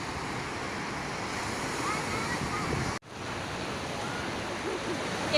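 Sea waves wash onto a beach after rain, a steady, broad rushing surf close by with wind on the microphone, briefly cut out midway before the surge resumes.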